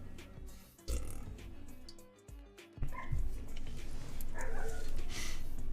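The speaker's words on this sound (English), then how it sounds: "what the dog's doing? They're being annoying, like usual. They're barking for some reason." Dogs bark in a noisy room, a loud low burst near the start followed by scattered yips and whimpers over steady background clatter.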